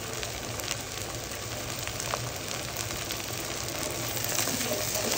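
Onion, garlic and chili sizzle gently in a pan for a lentil dish, an even hissing fry like light rain that stays constant and close.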